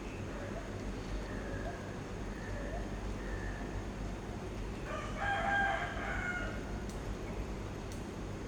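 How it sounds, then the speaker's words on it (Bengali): Before dawn in Dhaka in summer, a rooster crows somewhere off at a distance, one clear drawn-out call rising over a steady low background hum, with fainter calls earlier. "মোরগ ডাকতেছে।"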